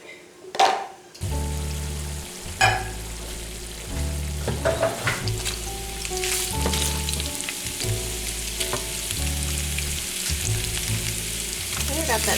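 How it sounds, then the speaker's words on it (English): Ground beef frying in a pan for a ranch taco lasagna, a steady crackling sizzle with scraping stirs and clinks of utensils against the pan, close and continuous. "I'm gonna go over here and drain the ground beef real quick"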